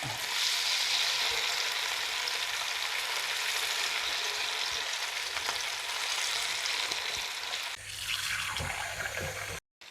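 Chicken pieces frying in hot oil in a home kitchen, a steady loud sizzle with a few stirring clatters, easing slightly near the end before a brief cut.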